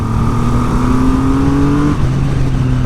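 A 2020 Triumph Rocket 3 motorcycle engine revs hard and loud up close, pitch climbing steadily with a deep throaty tone before easing off as the rider lifts.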